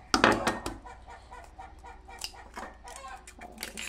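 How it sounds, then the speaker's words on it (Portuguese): Chickens clucking close by on a farm, a burst of loud clucks at the start and then scattered calls and squawks. "Galinhada tá berrando lá, gente, que já voltaram, né?"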